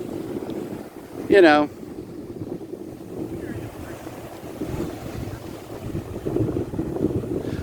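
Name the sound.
wind blowing at the beach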